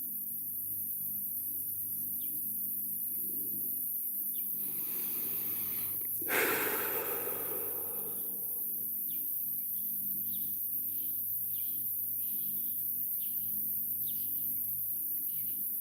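A steady, faint insect chirring runs throughout, with a brief louder rustling burst partway through before the soft drone resumes.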